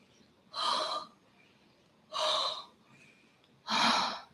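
Three strong nasal breaths during a breathing exercise, each about half a second long and spaced evenly roughly 1.5 seconds apart, sharp, airy and close, with quiet pauses between them.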